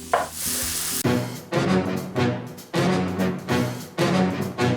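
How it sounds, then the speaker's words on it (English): Sliced mushrooms frying in a pan, loud close sizzling with repeated rhythmic scraping sweeps as a spoon stirs them around. "just let this cook until the mushrooms have browned and softened"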